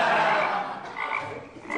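Frogs croak in a dense, continuous chorus that runs through the whole short span at a steady, fairly loud level.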